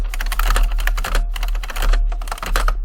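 Rapid typing on a computer keyboard, a steady run of close, crisp key clicks with brief pauses and no talking.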